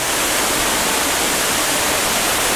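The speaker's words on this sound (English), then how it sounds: "See, there is another waterfall up further." A mountain waterfall near Chiang Mai roars in a loud, steady broadband rush, close by and with no other sound.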